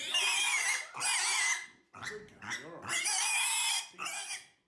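A farm pig squeals and screams loudly in repeated long bursts while being held off the ground for ear tagging and tattooing, with short breaks and grunting sounds between the shrieks.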